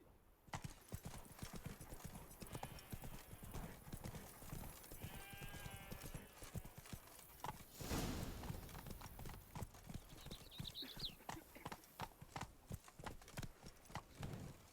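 A horse's hooves clip-clop steadily at a trot in The Witcher 3: Wild Hunt, Blood and Wine, with a brief neigh partway through, over a dense game soundscape of ambient noise.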